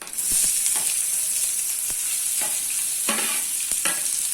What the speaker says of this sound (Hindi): अभी हम लोग इसमें कटे हुए ऑनियन ऐड कर देते हैं